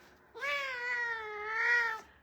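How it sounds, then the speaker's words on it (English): A female F1 Savannah cat gives one long, drawn-out meow lasting nearly two seconds, close and fairly loud, its pitch wavering slightly and swelling near the end before stopping abruptly. "She is our F1 Savannah cat."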